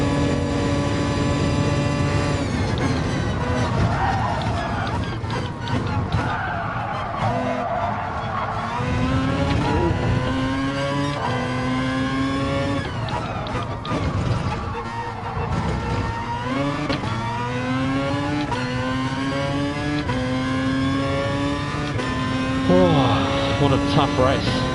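A race car engine in Gran Turismo Sport revs and shifts through repeated rising and falling sweeps, with tyre squeal mixed in during an online daily race, loud and continuous while someone commentates over it.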